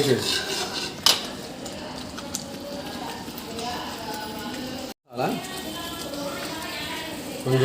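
Ingredients for Kashmiri chicken are sautéed in a pan, with a metal spatula scraping and clinking against it in an irregular rhythm, a sharp clank near the start and a steady sizzle underneath.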